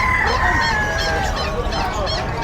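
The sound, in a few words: chickens and pigeons at a pet market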